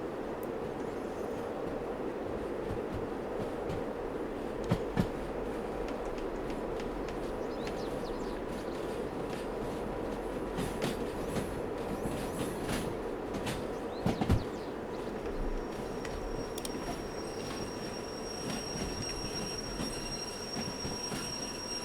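A train in the video game Derail Valley rolls steadily with a continuous rumbling roar and metallic wheel squeals, a few clanks along the way; no talking.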